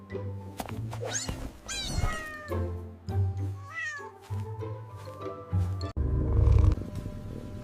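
A fluffy domestic cat meows several times in quick succession, close and clear, with drawn-out, rising and falling cries and a louder final yowl.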